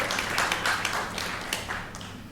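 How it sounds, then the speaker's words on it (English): A dense wash of clapping from a wrestling crowd, steady and fairly loud throughout, with scattered sharper claps standing out. "Give him a round of applause, man"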